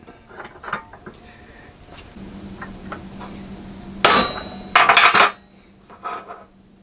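Metal pieces for homemade tree climbing sticks are hammered and punched, producing close, loud metallic clangs and taps in an irregular rhythm, with a dense burst of ringing strikes near the end.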